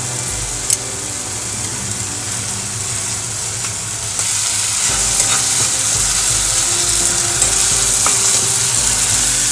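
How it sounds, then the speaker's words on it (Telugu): Tomato paste fries and is stirred in a pan while making a Godavari-style fish curry (chepala pulusu). The sizzle is steady and close, with scraping stir strokes, and it grows louder about halfway through. No one speaks. "టమాటా పేస్ట్ కూడా కొంచెం పచ్చివాసన పోయేంత వరకు వేపాలి. చూడండి, టమాటా పేస్ట్ కూడా వేగింది కదా."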